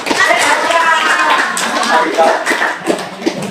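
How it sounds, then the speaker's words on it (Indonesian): Classmates clapping in a university classroom, a dense patter of hand claps mixed with children's and students' chatter and shuffling throughout. "Kasih tepuk tangan buat kakak Haikal"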